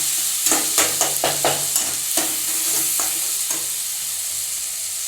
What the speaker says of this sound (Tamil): கரம் மசாலா தூள், மிளகாய்த்தூள், மல்லித்தூள் எல்லாம் போட்டு நல்லா வதக்கிக்கோங்க